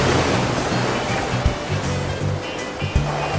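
Water running down over rock at a beach entrance in Trindade, Paraty, a steady broadband rush with some low rumbling thuds, close and continuous, no voices.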